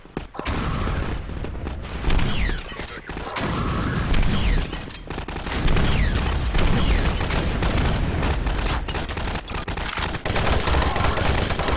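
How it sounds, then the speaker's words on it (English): Weapons fire in Garry's Mod sandbox gameplay with a rocket launcher, a dense, loud stretch of continuous gunfire and blasts with repeated booming bursts filling the whole span and no clear pauses. "Rocket launcher!"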